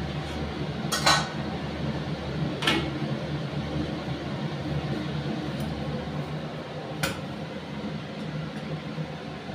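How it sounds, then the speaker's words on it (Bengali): A plate is set over a cooking pot of potato and pointed gourd curry with a little water, making a few sharp metallic clinks and scrapes against a steady background hiss, close by, with no voices. "এবার আমি একটা থালা দিয়ে চাপা দিয়ে দিচ্ছি।"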